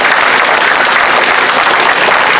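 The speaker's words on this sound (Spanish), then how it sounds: "para quien pedimos un aplauso muy fuerte" A crowd at a political rally in Azcapotzalco breaks into loud, dense applause, a continuous wash of many hands clapping close and strong with no pause.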